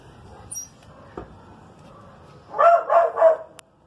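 A dog barks three times in quick succession, fairly close and loud, outdoors beside a wood-fired Chilean-style clay oven being heated for empanadas in Argentina, with quiet background noise before the barks.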